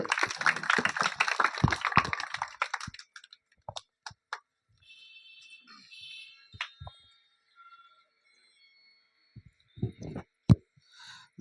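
A church congregation breaks into a dense burst of applause for about three seconds, then it dies away into a few scattered, faint claps and taps with long quiet gaps.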